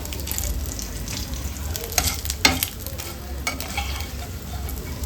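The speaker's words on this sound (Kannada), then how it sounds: "ಈ ಕರಿಬೇವು ಕೂಡ ಎಣ್ಣೆಯಲ್ಲಿ ಫ್ರೈ ಆಗಿರುತ್ತಲ್ಲ" Silver fish and curry leaves fry in hot oil, a continuous close sizzle broken by scattered crackles and stirring scrapes, with no voices.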